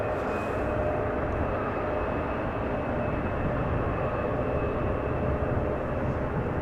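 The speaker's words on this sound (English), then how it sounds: "I am seeing an A350 from China Airlines on the move" China Airlines Airbus A350 moving at Schiphol airport, a dense steady engine rumble with a constant high whine, no voices.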